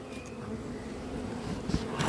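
A honeybee swarm buzzes steadily and densely during a swarm capture at Courquetaine, a close, continuous hum with no voices over it.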